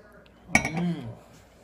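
Two glasses of Moscato wine clink once in a toast, a bright, close ring that fades quickly as a voice talks over it.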